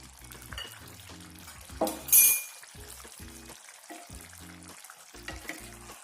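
Crushed peanuts being stirred into a simmering eggplant and potato curry, soft bubbling and stirring with a brief louder scrape and splash of the spoon against the pot; background music plays throughout.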